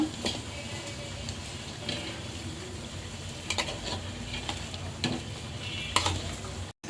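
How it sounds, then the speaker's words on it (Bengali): Cooked meat is stirred and mixed in a pot, with a low steady sizzle under scraping spoon strokes and occasional clinks against the pot. "মাংসটা এখন মিক্স করব"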